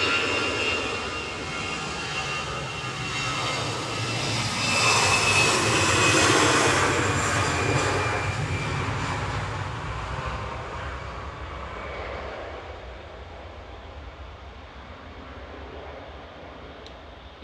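EasyJet jet departing Manchester Airport for Faro as flight 7502, registration OE-IJK: a broad engine roar swells to a peak midway, then slowly recedes into a fading distant rumble over about seventeen seconds.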